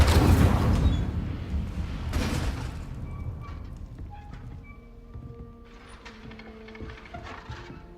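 A Hogwarts Legacy Incendio fire spell bursts out with a heavy whooshing blast, then a rumbling impact that fades into softer mechanical clanks and faint magical tones.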